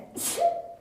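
A single sharp sneeze, a quick intake of breath followed by a loud hissing burst, close and brief in an otherwise quiet room.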